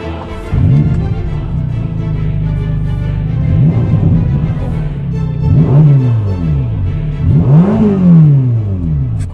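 A Ferrari Portofino M's engine revs repeatedly at a standstill, rising and falling in several loud, sweeping blips over a steady idle, heard from inside the car with no talking.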